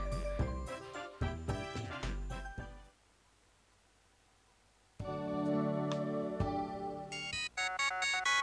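A melodic phone ringtone chimes in the video game Rush & Dream!, playing in bright bursts, pausing into silence for about two seconds, then resuming with layered tones.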